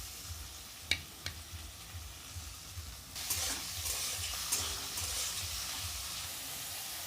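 Chicken and garlic fry in hot oil, a steady close sizzle with a couple of sharp clinks early on, then a louder, fuller hiss as more pieces hit the pan and are stirred.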